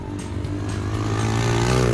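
A mini motorcycle engine revs hard and loud during a pillion race, a continuous buzzing drone close by whose pitch climbs steadily as it accelerates.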